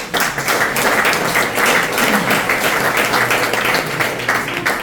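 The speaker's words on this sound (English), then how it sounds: "Do you want to clap to people in America?" Steady, dense audience clapping fills the room at a talk on queer and Jewish identity, holding at an even level throughout with little variation.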